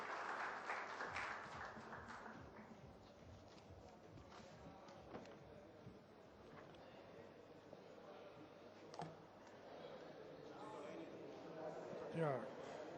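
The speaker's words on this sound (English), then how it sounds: "a huge round of applause" A large audience at a corporate brand awards event applauds Amul's managing director R.S. Sodhi, a faint, distant wash of clapping with some scattered sharper claps and voices underneath.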